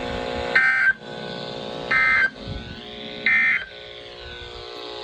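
Severe weather alert tones broadcast over NOAA Weather Radio station KZZ57 in Rockford, Illinois: three loud, steady electronic tone bursts, each under half a second, separated by gaps of about a second over a constant background hum.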